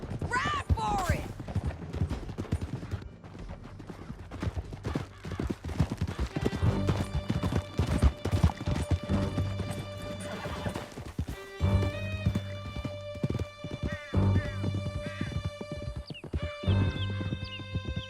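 Horses gallop in Red Dead Redemption 2, hooves clip-clopping in a fast steady rhythm through a canyon chase, with a whinny early on, tonal music swelling alongside, and a few distant gunshots.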